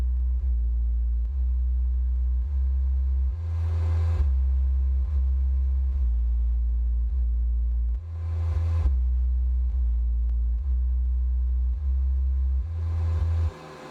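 Deep, loud sustained bass tones from a subwoofer driven by a Rockford Fosgate Power T500-1bdcp amplifier, stepping up and down in pitch in long repeating blocks, booming and steady, with brief shifts between notes.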